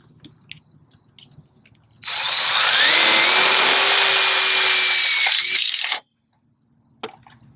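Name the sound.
power drill driving tech screw into ridge pole joint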